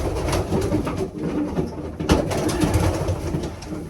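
Pigeons coo in a loft, soft repeated throaty calls overlapping in a low murmur, with rustling and shuffling close by.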